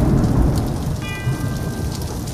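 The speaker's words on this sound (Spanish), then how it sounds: "Truenos, lluvia y campanas de iglesia que te ponen los pelos de punta." Steady heavy rain and low rumbling thunder open a metal album, and a single church bell strikes partway through and rings on over the downpour.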